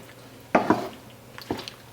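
A few clinking, scraping knocks of a utensil stirring pasta in a pan, in two short bursts, fairly close with a soft hum behind.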